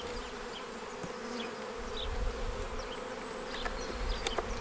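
Honeybees at an opened hive during an April colony inspection, a steady dense buzz of many insects close by, with individual bees flying past now and then, and no talk.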